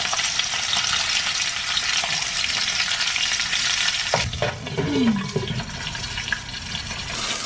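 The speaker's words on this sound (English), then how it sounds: "It is a sizzling." Frozen salmon frying in a pan gives a steady, loud hiss and crackle of sizzling oil, with a brief clatter of a utensil against the pan partway through; no one speaks.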